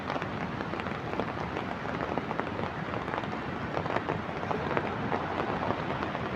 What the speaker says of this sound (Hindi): ये जो बारिश है ये लगातार 3-4 दिन से होती जा रही है